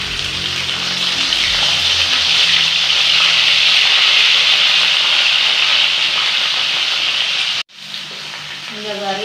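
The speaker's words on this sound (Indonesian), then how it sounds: "Dan terakhir kita akan menggoreng ikan teri ini" Small anchovies deep-frying in hot oil until crispy, a loud steady hiss and crackle of sizzling that continues throughout, briefly broken by a short gap near the end.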